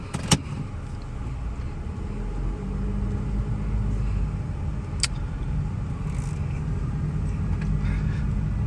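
A 2000 Toyota Corolla economy car drives steadily on a test drive, its engine and tyre rumble a continuous low hum from inside the cabin, punctuated by a couple of brief clicks, with no talking.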